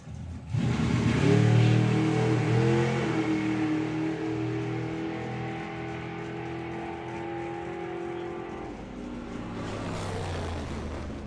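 A drag racing car makes a half-track pass at the Greenlight Nationals drag racing event. The engine roars in loudly with a sharp, climbing, revving tone, holds a strong howl for several seconds, then drops away into a fainter rumble.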